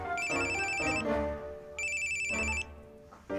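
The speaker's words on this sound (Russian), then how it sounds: "Катя, это ты мне звонишь" A phone's electronic ringtone plays in two repeated bursts of bright, warbling tones, moderately loud and close, with a brief pause between rings.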